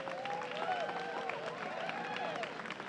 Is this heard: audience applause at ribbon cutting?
yes